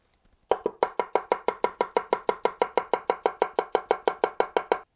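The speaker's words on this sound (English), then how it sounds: "Tap chopping with the middle to the base of the knife" A large Kuritsuke (K-tip) Gyuto Japanese chef's knife tap chopping with the middle to base of the blade on a cutting board: about two dozen crisp, evenly spaced chops in a fast steady rhythm, close and clear.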